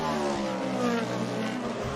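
IMSA sports cars accelerating out of the S's on a wet track at Watkins Glen on wet-weather tires: a continuous loud roar of engines under spray, steady throughout.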